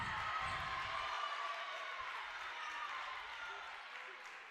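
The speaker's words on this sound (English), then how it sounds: "now the Bronx cheer from the other side" Crowd at a girls' high school basketball game letting out a sustained Bronx cheer, a broad jeering roar that holds steady near and loud, then eases slightly while still filling the gym.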